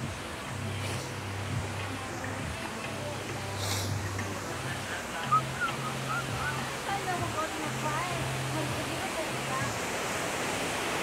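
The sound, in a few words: artificial surf wave pool at Aquaventure water park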